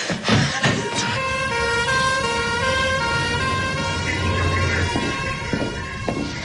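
Ambulance siren wailing steadily and loudly close by on a street, a sustained tone lasting the whole stretch over traffic rumble.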